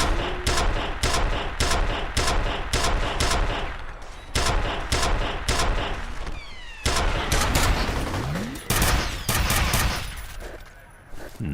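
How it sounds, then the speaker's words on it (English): Nail gun firing in the video game F.E.A.R., loud rhythmic bursts of rapid shots with brief pauses, mixed with other combat sounds and little talk. "You use the nail gun on the nail gun guy."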